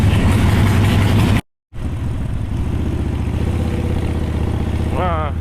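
A Harley-Davidson Sportster 72 XL1200 V-twin engine runs close and loud with a throbbing low rumble, cuts to silence briefly, then returns idling steadily while a voice speaks near the end.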